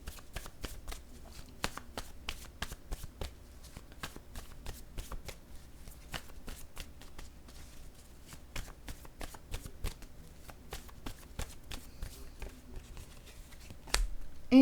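Oracle cards shuffled by hand without pause, a steady run of crisp riffling flicks and snaps, close up and moderately loud, with no talk over it.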